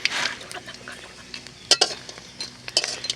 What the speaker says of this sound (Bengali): এটা হচ্ছে আলুর পাঁপড় ভাজা হচ্ছে